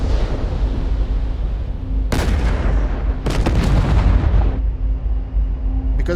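Maverick missiles from an A-10 Warthog striking ground targets in DCS World, heard as two loud, broadband impact blasts in quick succession over a steady jet engine drone and hum, each followed by a rumbling decay.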